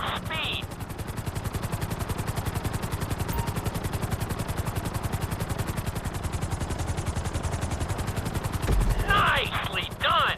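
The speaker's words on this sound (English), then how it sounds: "we'll see how well you handle the chopper" Helicopter in GTA V flown through a marked course, its rotor chopping in a fast, even pulse that fills the whole stretch, loud and close, with brief bursts of game effects at the start and near the end.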